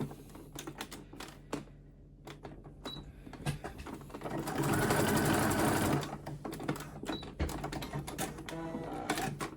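Sewing machine topstitching denim at a 3 mm stitch length, a steady rapid mechanical clatter close by, running through the whole stretch and swelling louder for a few seconds in the middle.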